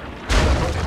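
A single heavy cannon blast in Sea of Thieves hits abruptly and rumbles on with a deep, sustained roar.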